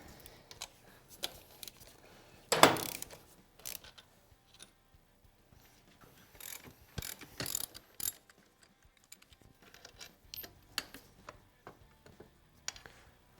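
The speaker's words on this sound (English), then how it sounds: "we need to remove this upper bolt as well as these 2 lower ones" Bolts are worked loose on a KTM 690 motorcycle engine using a ratchet, with scattered bursts of clicking and clattering metal between quiet pauses, close up in a workshop.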